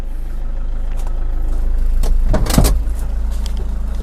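A 2007 Toyota Vigo single-cab pickup with a 2.5 common-rail diesel drives on a test drive, its steady low engine rumble and road noise filling the cabin, with a brief louder swell midway.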